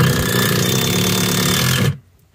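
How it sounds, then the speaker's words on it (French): An impact driver drives a screw into wood for a shelf build, a loud continuous rattling hammering burst lasting about two seconds before it cuts off abruptly into quiet. "Ah bah la visseuse à choc c'est magique."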